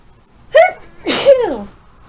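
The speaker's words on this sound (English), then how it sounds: "here's a sneeze" One close, loud sneeze with a voiced gasping lead-in and a sharp, breathy burst that tails off, heard alone.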